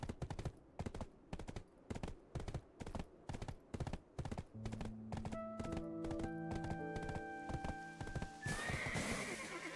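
Fast, even horse hooves clip-clop in a video game, loud and rhythmic at first, then a horse whinnies over sustained musical tones, with a burst of noisy effects near the end.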